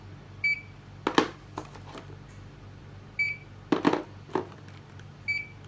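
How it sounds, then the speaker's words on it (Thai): Short electronic beeps from a NITA CR5000 2D desktop barcode scanner reading barcodes, three brief tones spaced apart, each accompanied by handling clatter and knocks, recorded close in a quiet room. "เวลาเจอบาร์โค้ดเนี่ย เครื่องจะ สามารถ ตรวจสอบ ว่ามีบาร์โค้ดผ่าน แล้วก็ทำการสแกนได้เลยนะครับ"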